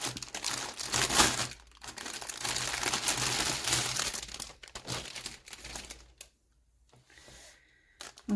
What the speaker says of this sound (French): elle arrive en emballage comme ça. Du coup je vais l'ouvrir.